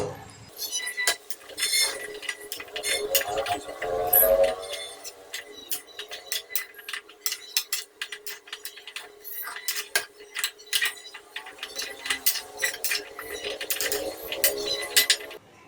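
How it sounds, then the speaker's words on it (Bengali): Banana flower curry being stirred in a pot, with a spoon clinking and scraping against the metal in irregular close taps throughout, quiet talk underneath. "মোচাটা দিয়ে এবার নাড়িয়ে চাড়িয়ে ঢেকে দেব।"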